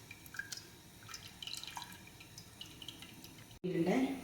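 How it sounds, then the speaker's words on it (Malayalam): Tamarind water poured into a pot for Kerala rasam: faint scattered drips give way to a sudden, louder splashing pour near the end. "പുളി ഒഴിച്ചു"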